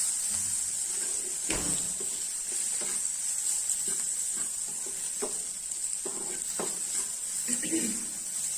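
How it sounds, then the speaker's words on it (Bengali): Cumin powder frying in a pan on a flame, a steady bright sizzle running throughout, with occasional spoon stirs and clinks against the pan and light talk over it. "এখন এটাকে ফ্রাই করে নিচ্ছি"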